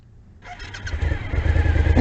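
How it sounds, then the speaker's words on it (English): A motorcycle engine starts with the push button, a brief cranking whir that catches into a steady, rumbling idle that grows louder and fuller, close by with no talking. "I'm going to pull the clutch lever in and push the start button until it starts."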